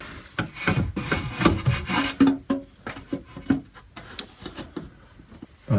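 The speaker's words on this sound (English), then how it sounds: "So now the moment of truth, putting the cover back on." A valve cover is fitted back onto a BMW E36 engine: close rubbing and scraping contacts with a few sharp knocks and clicks. The sounds come irregularly over several seconds, with no talking.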